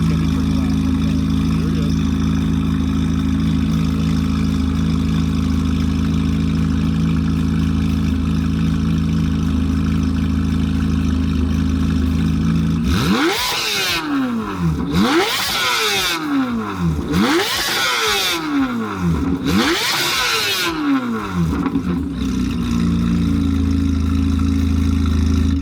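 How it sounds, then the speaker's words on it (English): A modified Corvette C8 Z06 idles with a steady drone, then fires off four sharp, loud revs in quick succession, each swelling and falling back before settling into idle again. "So you just heard the C8 Z06"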